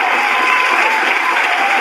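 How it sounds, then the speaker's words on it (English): Audience applause at a talk event, a steady dense wash of clapping and crowd noise filling the whole moment without pause or voices on top. "Let's give them a round of applause."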